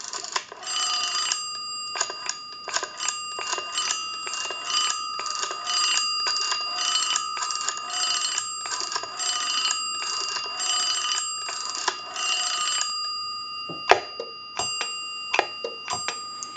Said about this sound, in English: he gets a little bit of a bell tinkle whenever he tries to dial the telephone